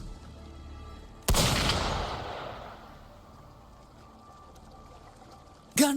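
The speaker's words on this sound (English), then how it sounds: "Gunfire! We've got intruders." A single sharp burst of gunfire in the Wuthering Waves video game, a loud crack followed by a broad rumbling tail that fades over a few seconds, with another abrupt shot at the end.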